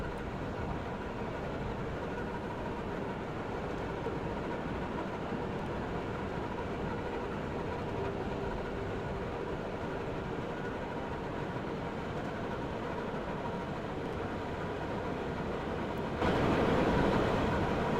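A JR 203 model train from a train simulator game runs steadily on a snowy route, a continuous dense rumble and rattle of wheels on track that swells slightly louder at the very end.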